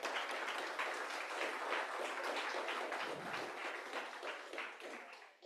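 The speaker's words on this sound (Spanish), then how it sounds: "Denle un fuerte aplauso al Señor." A church congregation claps loudly and continuously during a service, a dense, even wash of applause that tapers slightly at the end.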